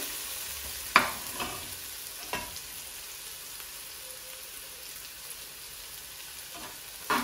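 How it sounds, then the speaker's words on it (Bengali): Whole cumin seeds and onion fry in a pan with a steady, soft sizzle, broken by a few sharp clicks of a utensil touching the pan. "তো আস্তা জিরা আর পেঁয়াজ ভাজইব সুন্দর করে দিল লগে।"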